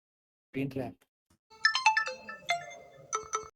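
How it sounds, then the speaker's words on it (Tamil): Phone ringtone in a Tamil comedy scene: a bright electronic melody of quick tonal notes sounds for about two seconds, right after a short burst of a voice. "ஃபோன் வந்துச்சுடா"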